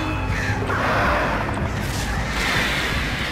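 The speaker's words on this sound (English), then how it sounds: "There was just like fucking birds from every side, man!" Crows swarm and attack from every side in the video game Alan Wake, a dense roaring wall of cawing and flapping mixed with rumbling game noise, loud and continuous throughout.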